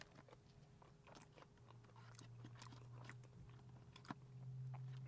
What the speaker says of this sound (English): Can you guys hear any of my crunches?